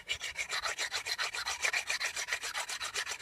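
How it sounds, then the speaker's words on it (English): Two whetstones grinding against each other, the coarse face of one smoothing the other: a steady rasping scrape in regular back-and-forth strokes, close up with no talk. "I'm going to be using this one, the coarse edge, to grind down this one smoother"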